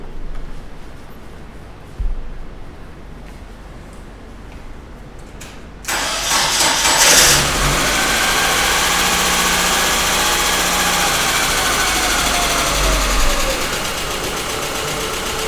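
A car engine in a workshop is cranked and catches abruptly after several seconds of near silence, then settles into a steady, close mid-pitched idle that runs to the end.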